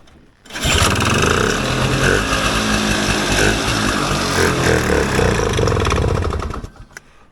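A vintage Polaris Colt snowmobile engine catches and runs, a loud, raspy two-stroke buzz held steady for about six seconds before cutting out abruptly.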